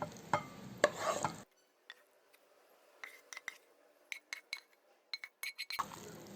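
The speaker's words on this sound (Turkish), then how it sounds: "Karıştırıyorum" A spoon scrapes and clinks in a bowl while grated potato is stirred into a minced meat filling for Turkish potato and mince bazlama. The quiet, irregular taps and knocks are spaced apart, with a louder kitchen noise at the start and end.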